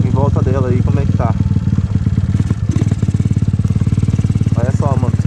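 A Honda Titan 150 motorcycle engine runs steadily with a loud, close, even chug as it rides around an abandoned house, and someone talks briefly over it.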